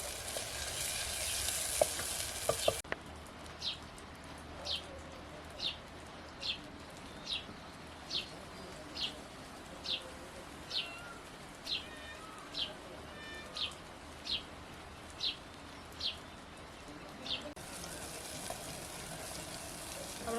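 Fenugreek and potatoes cook in a spiced pan over a village fire for a fenugreek-seed curry, a steady low sizzle that is louder at first, with regular bird-like chirps repeating about once a second above it.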